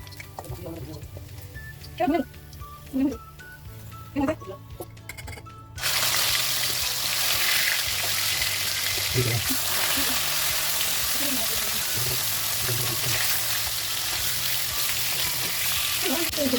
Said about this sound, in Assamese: মই ভাজি আছোঁ